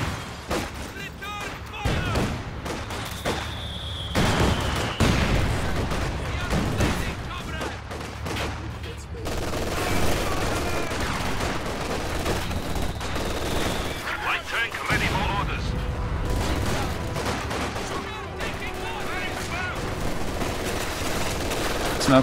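Rapid machine-gun bursts from an MG42 and booming mortar impacts in a World War II strategy video game battle, dense and continuous gunfire with loud blasts, a voice talking over the combat.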